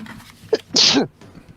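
A single close sneeze, a short sharp intake followed by a loud bursting exhale, with quiet voice murmur before and after.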